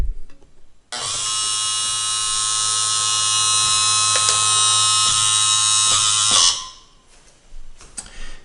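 An RC truck with realistic hydraulics raises its tipper bed: a steady, loud electric pump whine starts abruptly, holds evenly for about five and a half seconds, then cuts off, leaving faint clicks behind.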